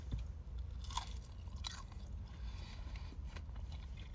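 Crunchy chicken nuggets from the fast-food chain Duchess chewed close to the mic, a few crisp crunches early on giving way to steady softer chewing over a low background rumble, with no talking.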